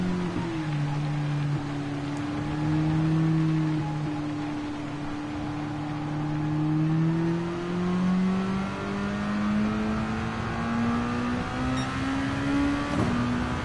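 A race car in a Le Mans racing video game drives through wet conditions and puddles, its engine droning and shifting in pitch steadily over a broad hiss of spray and road noise.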